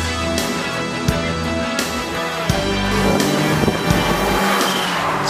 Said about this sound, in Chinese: 现在开的是 AMG 车款，它的马力相当大